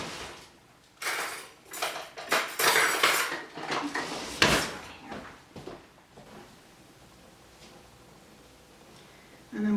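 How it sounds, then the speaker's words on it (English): Flour and salt being stirred into wet ingredients in a mixing bowl for cherry pie bars, with a utensil scraping and clinking against the bowl in bursts, loudest early on, then settling into quieter stirring. "so now I'm going to be adding in my dry ingredients, which is all-purpose flour and a little bit of salt in here. So I'm going to stir that up."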